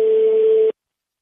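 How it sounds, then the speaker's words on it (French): A telephone sounds a single steady electronic tone of under a second that cuts off abruptly into silence. "Sonnerie."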